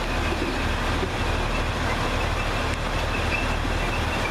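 A King's Cross to Glasgow Central train passes at Doncaster station with a loud, steady rail roar and wheel rumble throughout.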